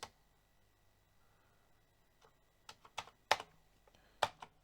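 Commodore 64 keyboard being tested, with scattered individual key presses: sharp plastic clicks and taps, sparse at first, then a few louder strikes close by in a quiet room.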